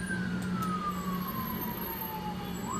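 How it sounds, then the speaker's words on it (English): An ambulance siren wails steadily on York Street near Van Buren in Elmhurst, Illinois, a loud sweeping tone gliding slowly downward over a constant rumble of traffic, close and continuous throughout. "Here's an ambulance"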